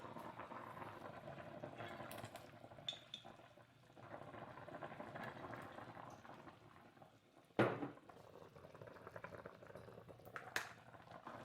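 Tofu fish soup bubbles quietly in a pot, a soft continuous simmer with a few sharp clinks and knocks of kitchenware.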